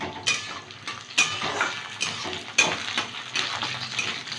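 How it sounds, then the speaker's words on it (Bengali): Chopped onion, garlic and slit green chillies sizzle in oil in a pan, a continuous fry punctuated by regular spatula scrapes and clinks against the metal. "একটা পেঁয়াজ কুচি দিচ্ছি একটু ভেজে নেব"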